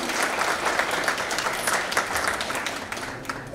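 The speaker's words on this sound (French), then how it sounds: "Vous pouvez l'applaudir." An audience at an International Francophonie Day event claps steadily. The applause is dense and sustained for several seconds, with no voices rising above it.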